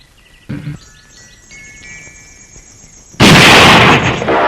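A gunshot blast bursts out loud and close near the end after a quieter stretch of tones, with a smaller pop earlier, and no talk.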